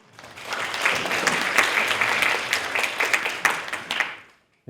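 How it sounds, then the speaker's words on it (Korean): An audience at a university central library book concert claps to welcome a professor, with sustained, lively applause that swells quickly, holds steady, then dies away into silence. "큰 박수로 손은규 교수님을 모시도록 하겠습니다"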